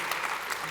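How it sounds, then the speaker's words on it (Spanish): A church congregation claps, a dense, steady burst of applause filling the moment, close and lively, with no voices standing out. "denme un aplauso o algo al Señor ahí"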